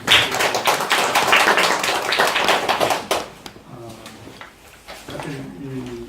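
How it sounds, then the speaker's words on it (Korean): A Bible study group claps together to welcome a first-time member at a church gathering, giving about three seconds of brisk, close clapping before it stops and a voice starts talking. "박수로 환영해"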